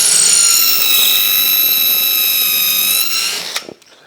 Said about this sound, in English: I'm just going to use it in this hand drill because it will follow the line I've already drilled.